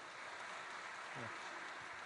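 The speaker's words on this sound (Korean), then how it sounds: "우리 서로를 격려하는 박수 한번 치고 시작하겠습니다." Church congregation clapping together on a rainy winter night, a dense steady wash of applause filling the room for the whole stretch, with a brief voice breaking through partway.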